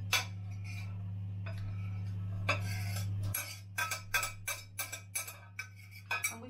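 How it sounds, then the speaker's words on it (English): Sausage meat and breadcrumbs for chestnut stuffing being mixed in a bowl, with quiet scraping followed by a run of sharp clinks of a utensil against the dish over a steady low hum. "Just give them a little mix with that."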